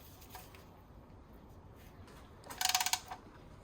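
A ratchet wrench tightens the sump plug bolt, fitted with a new copper washer, on a 2016 VW Golf 1.4 TSI petrol. A quick burst of close metallic clicks comes after quiet shuffling.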